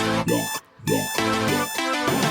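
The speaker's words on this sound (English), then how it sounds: "Yeah, alarm going off, gotta pay the bills" An electronic alarm clock rings in repeated warbling bursts with a brief gap, bright and insistent, close and fairly loud.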